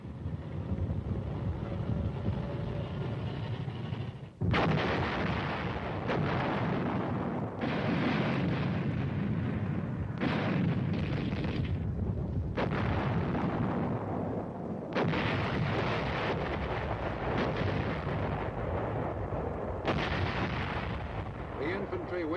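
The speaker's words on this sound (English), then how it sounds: "Army artillery pounded away incessantly while the tanks got in position to add their fire." Army artillery firing during the Korean War: heavy, repeated blasts and a booming rumble that rolls on almost without pause, loud and dense with no spoken voice.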